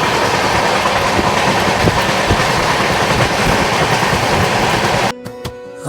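Chennai Mail 12839 train running on the rails, a steady loud rumble and rattle of wheels with faint clicks for about five seconds before the sound drops away abruptly.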